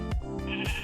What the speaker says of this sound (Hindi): ये आवाज़ तो एक भेड़ की होती है या कह लो बकरी की होती है